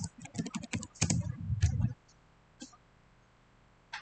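Hash codes are typed on a computer keyboard in a quick run of close, sharp key clacks lasting about two seconds, then a long pause broken by one or two lone taps.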